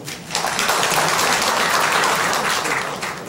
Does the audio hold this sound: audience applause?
yes